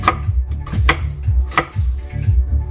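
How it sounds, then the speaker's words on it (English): Onions being chopped with a knife, a series of sharp, close knocks in an uneven rhythm, about five or six cuts with short pauses between, heard alone. "Cutting the onions."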